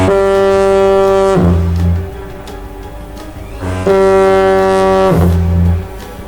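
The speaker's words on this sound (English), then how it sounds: "So you can hear that foghorn going, and that's 120 decibels, I think." Two long, loud blasts from a 120-decibel lighthouse foghorn at Deal Island, each a deep steady harmonic tone lasting over a second, separated by a lower engine rumble and pause.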